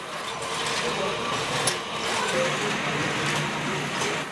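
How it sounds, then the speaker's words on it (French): A bamboo-processing machine cutting bamboo into two thicknesses and re-splitting the strips for braiding keeps up a steady mechanical rattle and whir, with faint clicks. "Il y a une première machine qui coupe le bambou en 2 épaisseurs."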